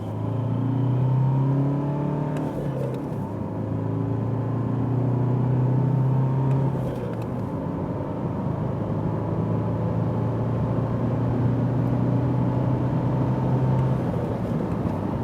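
A 2017 Alfa Romeo Giulia with a 2.2-litre diesel accelerates, heard from inside as a steady engine drone climbing in pitch through the gears, with a continuous road rumble beneath it and no speech.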